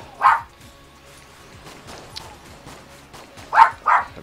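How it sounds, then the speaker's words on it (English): Dogs barking indoors in a few short, sharp bursts, one at the start and a double bark near the end, moderately close, with quiet background between. "Damn dogs."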